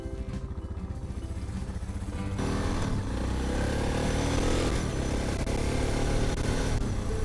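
A Suzuki DR650 motorcycle engine thumps steadily while ridden, loudening as it pulls away and then holding a strong, close, continuous drone with wind noise and no talk.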